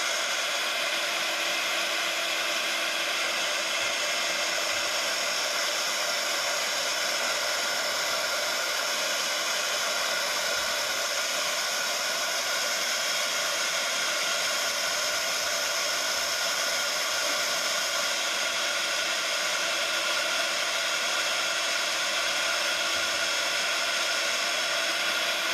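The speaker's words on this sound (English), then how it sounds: "I'm just going to give it a little bit of a dry." A heat tool blows steadily on a craft project to dry it, a loud continuous whooshing hum that holds unchanged for the whole stretch with no talking.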